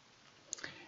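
A single faint mouse click, very quiet and brief, selecting the gear-shaped settings icon in a Hotmail web mail account, with no talking.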